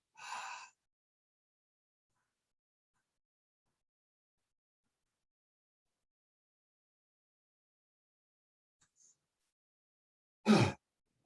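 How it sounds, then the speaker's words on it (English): A deep breathing exercise with two brief breath sounds, a short breathy exhale near the start and a sharper, closer one near the end, separated by a long silence. "I want you to exhale everything out all the way down until you have no air left in your lungs."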